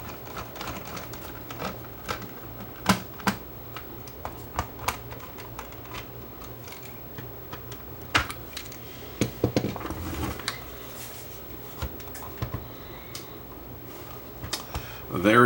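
Keys pressed one after another on a vintage Commodore C108 computer keyboard being tested after restoration, a run of sharp plastic clicks at irregular spacing, fairly close, with some rattling handling noise between presses.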